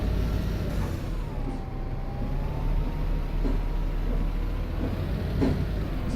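A bus engine in a driving video game drones at a low, steady idle-like rumble, with faint whining tones rising and falling and a few brief hisses.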